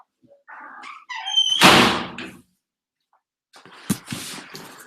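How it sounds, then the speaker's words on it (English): An indoor door is pushed shut with a squeak and a solid thunk, followed by a short pause and a second lighter knock, close by with no talking. "Let me shut this door"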